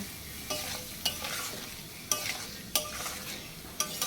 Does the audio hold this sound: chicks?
no